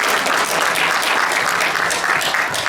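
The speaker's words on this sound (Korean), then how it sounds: "다시 한번 큰 박수 부탁드립니다" Conference attendees applaud a presenter at a summit, with a continuous, even wash of many hands clapping close by, no talking over it.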